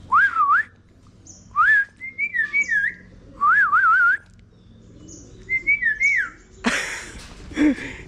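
A bird gives repeated warbling whistles in short bursts with pauses between them, close and clear, followed by a brief burst of rustling noise.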